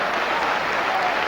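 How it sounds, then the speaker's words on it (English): A football crowd at a West Ham United match in the late 1970s applauds, a dense, steady wash of clapping from many hands filling the stadium. "The crowd are applauding"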